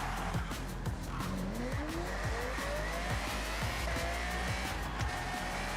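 A Pagani supercar races in Forza Horizon, its engine wailing steadily while it shifts up through the gears, with tires squealing, loud and close and continuous, with no voices.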